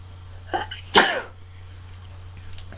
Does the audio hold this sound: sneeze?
yes